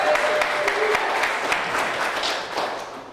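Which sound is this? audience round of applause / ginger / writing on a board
audience round of applause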